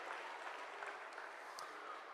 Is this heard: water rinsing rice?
no